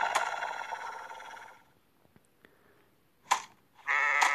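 Sheep bleating in a video game, a loud bleat at the start, then near silence with tiny clicks, followed by two more close, clear bleats toward the end.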